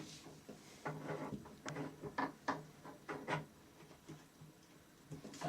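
A metal tap reseating tool is screwed into a dripping tap, making a series of faint, close scraping and clicking turns in an irregular rhythm.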